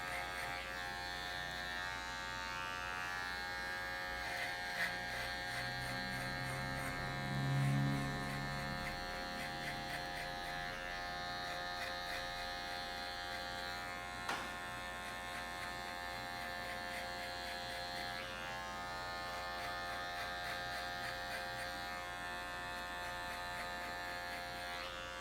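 Electric hair clipper running steadily while cutting a men's fade at a barbershop, a constant close mechanical buzz with small shifts as it moves through hair, no talking.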